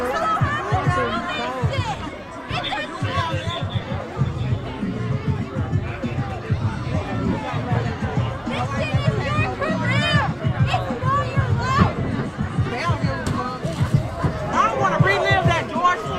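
Hundreds of protesters gathered outside fill the air with a restless, continuous babble of shouting and chatter, loud and close, with individual voices rising above the crowd noise.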